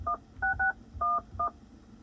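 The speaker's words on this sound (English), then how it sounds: "you could make like a phone call direct from here now" A phone keypad sounds a quick run of DTMF dialing tones, several distinct short beeps in an irregular rhythm, quiet and close with no talk.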